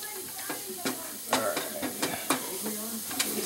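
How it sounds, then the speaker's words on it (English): Beer poured into a hot pan to deglaze a beer and cheddar soup base, giving a steady sizzling hiss broken by sharp scraping and clinking taps from a utensil. "We're going to add our beer to it to kind of deglaze and get all the little bits off the bottom."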